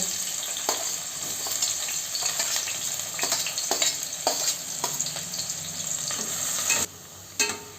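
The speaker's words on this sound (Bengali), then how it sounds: "এর মধ্যে যে আমি পেঁয়াজগুলোকে কেটে রেখেছিলাম সেগুলোকে আমি তেলের মধ্যে একটু বেরেস্তা টাইপের করে নেব" Sliced onions fry in oil and ghee for birista, a continuous loud sizzle broken by repeated sharp clinks and scrapes of a spatula stirring the pan, no talking.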